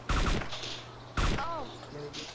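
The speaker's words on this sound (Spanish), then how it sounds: "¡Me está disparando!" Gunfire in the game DayZ, two sharp bursts of shots about a second apart, loud and close, with brief tonal game sounds and a little voice between them.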